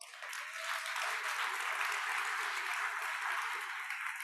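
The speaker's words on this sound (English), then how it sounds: "give yourselves a round of applause" Conference audience applauding together, a steady dense wash of clapping that swells quickly and holds at full strength throughout, with no speech over it.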